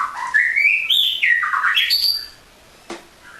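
Captive-bred female white-rumped shama giving a run of loud, close squawking calls that rise and fall in pitch for about two seconds, then a brief sharp note after a pause.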